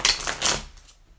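A deck of tarot cards being shuffled by hand, a quick burst of close riffling and flapping lasting about a second and fading out.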